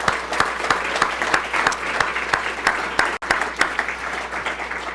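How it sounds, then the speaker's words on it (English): A crowd applauds steadily, dense overlapping claps filling the room at a loud, even level with a brief dropout near the end. "So I just want to give them a big round of applause."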